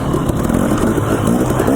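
A dirt bike engine rides through the Idaho desert badlands, revving and pulsing up close with a raspy, fluctuating drone and some clatter.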